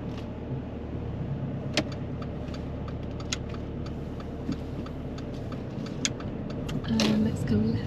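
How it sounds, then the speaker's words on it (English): A diesel car driving off during a driving lesson, its steady low engine drone and road rumble continuing throughout, with faint clicks like an indicator ticking and a slight rise in engine noise near the end. "the reason why the car moved like that is, firstly, diesel car"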